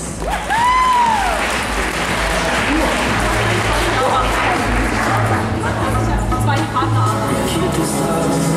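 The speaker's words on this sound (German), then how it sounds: "Hey, Applaus!" Applause breaks out at a cosplay competition at a convention, sustained broadband clapping from a crowd over a steady low hum, with voices and a brief whistle-like sweep mixed in.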